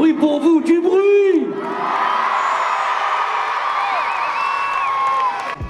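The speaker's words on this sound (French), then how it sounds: "Du bruit pour vous, du bruit!" Crowd of Nîmes locals roaring and cheering in the Nîmes arena at a gathering around Kylian Mbappé; a single raised shout opens, then a loud, sustained wall of cheering fills the rest.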